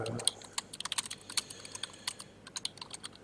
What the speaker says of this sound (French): Et puis on peut taper,